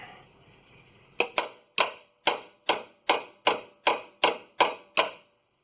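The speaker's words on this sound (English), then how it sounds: "Maybe I give her a little tap with the hammer" About a dozen sharp hammer taps on a rusted steel truck frame of a 1995 Chevy 1500, fairly steady in rhythm, close by with a brief ringing after each strike.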